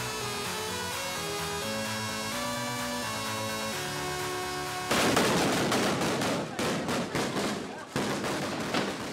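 A festival teaser soundtrack opens with music, then a dense run of loud, sharp fireworks bangs follows in quick irregular bursts over the second half.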